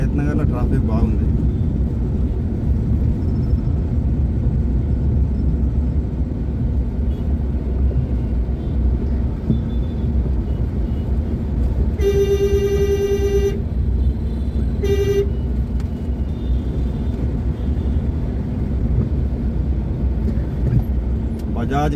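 Busy road traffic in Hayath Nagar, a constant engine rumble and passing vehicles with a loud horn blast followed by a shorter toot, heard from within the flow of traffic.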